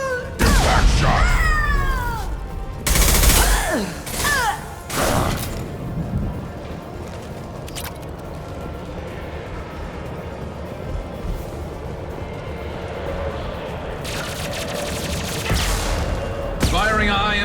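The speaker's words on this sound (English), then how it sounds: "Firing a high impact shot." Gunfire from a high impact shot in Mass Effect 2 Legendary Edition, with a few loud, sharp bursts in the first seconds, then a steady combat rumble. Voices talk over the early part.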